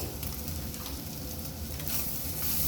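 Egg bhurji with red chili and coriander powder sizzles steadily in a pan while a spoon stirs and scrapes through it, a close, continuous frying hiss with soft pattering and no talk.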